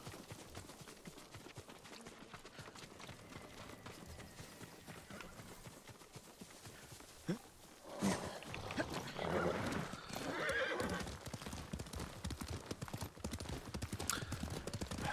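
A horse in the video game Ghost of Tsushima gallops with steady rhythmic clip-clop hoofbeats, faint at first and then louder, with a brief whinny and game ambience around it.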